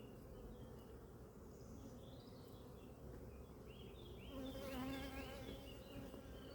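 A steady, faint drone of honeybees buzzing close by at a swarm, swelling slightly toward the end, with no voices.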